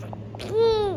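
A young child babbles briefly in the background, a short rising-and-falling vocal sound over a low steady hum.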